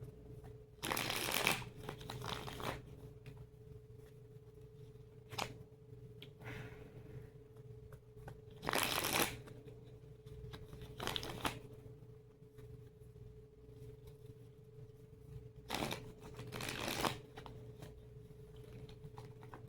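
Tarot cards being shuffled in bursts, several separate runs of crisp riffling and patter spaced through a quiet room with a steady low hum beneath, no talking.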